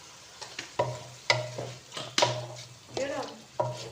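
Chicken manchurian being stir-fried in a pan, with repeated scraping stirs of a utensil against the metal over a soft sizzle, in irregular close bursts and no voices.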